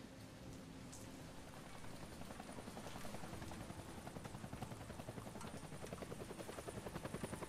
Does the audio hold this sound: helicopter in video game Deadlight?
yes